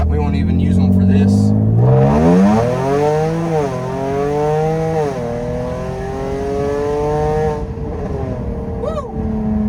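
Supercharged Jaguar XE 35T R-Sport engine in sport mode revving hard and loud, its pitch climbing and falling through several surges and shifts before dropping away near the end.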